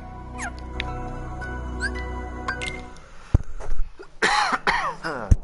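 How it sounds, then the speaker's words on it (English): A person coughs a few times close to the microphone, sharp bursts after a stretch of game music and sound effects from Kingdom Hearts Birth by Sleep. "Sorry. Didn't mean to cough in your ear."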